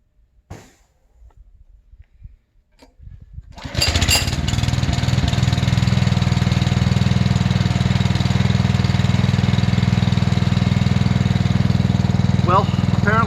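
A Simpson ALH3228-S pressure washer engine, started for the first time with no choke, catches after a few quiet handling noises and settles into a loud, steady, close running drone, with a brief voice near the end.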